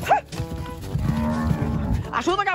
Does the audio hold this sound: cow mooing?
yes